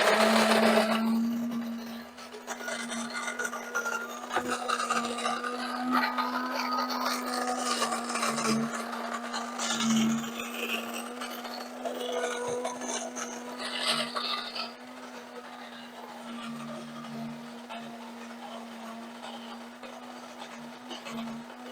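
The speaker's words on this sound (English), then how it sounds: "Now we're going to grind some beans." Coffee beans ground in an electric grinder powered from a DeWALT power station, a steady loud whirring grind with a constant motor hum running throughout, easing slightly toward the end.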